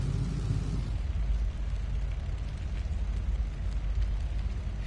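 Fire aboard a bomber in the video game Bomber Crew, a continuous low roaring rumble with crackling texture, steady and fairly loud throughout, with no voices over it.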